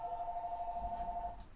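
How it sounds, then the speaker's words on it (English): A telephone rings in a working gym office, a faint electronic warble holding one steady tone for just over a second before cutting off, with no speech. "Sorry about the phone ringing."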